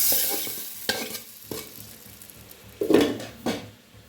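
A hot tempering being poured into soaked-lentil sambar, a faint sizzle under scattered clinks and scrapes of a utensil against the pot, with one louder splash-like burst midway.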